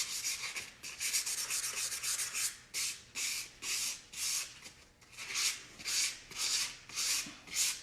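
Hand sanding of wooden furniture painted with Annie Sloan chalk paint, a soft rhythmic rasp of quick back-and-forth strokes, close by and fairly quiet, with no talk.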